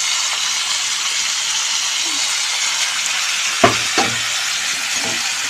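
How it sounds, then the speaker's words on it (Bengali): Onions frying together with chicken pieces in a pot: a steady hissing sizzle with two sharp spoon knocks and scrapes near the end, close and moderately loud, with no talk. "মাংসের সঙ্গে পেঁয়াজটা ভালো করে ভেজে নেব।"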